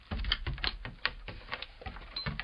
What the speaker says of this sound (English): here's the sound of the cat walking